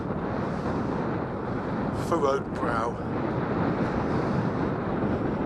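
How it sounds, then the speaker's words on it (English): Steady, rushing wind buffets the microphone throughout, with a brief spoken phrase partway through. "it is quite windy"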